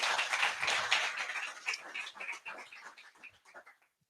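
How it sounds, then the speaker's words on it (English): Audience applause at a Clever Talks event honoring the speaker Brian, a dense patter of many hands that fills the room, then thins and fades out over a few seconds. "So one last round of applause for Brian."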